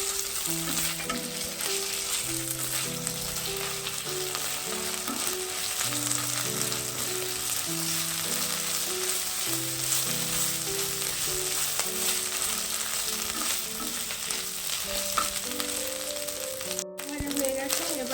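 Ginger garlic paste and onions frying for a village-style mutton curry make a strong, steady sizzle with stirring, close by, while background music plays throughout.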